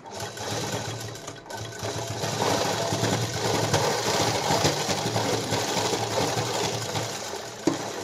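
An electric sewing machine stitches a blouse made from sari fabric, running with a continuous rapid close-up whir and rattle for the whole stretch, briefly pausing near the start, with no speech.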